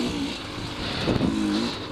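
Two dirt bikes, a Sun L250 and a Yamaha YZ125, rev briefly nearby, with a buzzing engine pitch that rises and then holds in a short burst.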